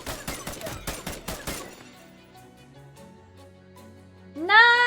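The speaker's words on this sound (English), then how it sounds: "Shoot it dead." Rapid bursts of video game gunfire crackle loudly for about a second and a half, then give way to quiet, droning game tones and a rising electronic chime.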